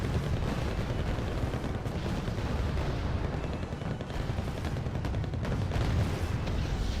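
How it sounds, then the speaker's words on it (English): Napalm bombs dropping in the real-time strategy game Wargame: Red Dragon, with a continuous loud rumble of blasts and battlefield fire filling the whole span, dense and steady without clear individual hits. "Emerald is dropping some bombs. Good old napalm by Dion Special"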